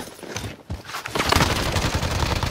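Rapid gunfire in a video game: close, loud volleys of shots that build into a dense sustained burst after about a second, with no talk over them.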